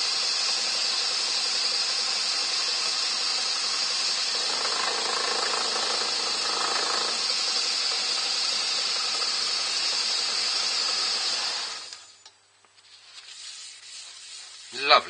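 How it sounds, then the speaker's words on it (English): A wood lathe spins quickly while a rake buffs a textured, burned and coloured bowl, giving a steady, loud, close hiss and whir that stops suddenly near the end, followed by quiet with a brief knock. "And then buff it up with the rake, with the lathe running"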